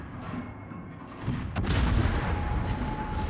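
Naval gunfire from the battleship Scharnhorst '43 in a naval combat game: a sharp boom lands midway, and loud rumbling salvos and explosions carry on to the end over a low engine drone.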